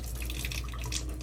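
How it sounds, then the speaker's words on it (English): Water runs steadily from the dispenser spout of a Kangen water machine, a continuous hissing splash that stays even and close throughout, with no talk. "flip this left one here, and then the water will come out"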